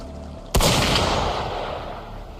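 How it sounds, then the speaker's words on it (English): In the video game Wuthering Waves, a single sharp gunshot or blast cracks out loud and close after a brief quiet, then leaves a long rumbling decay that fades slowly over two seconds. "Gunfire!"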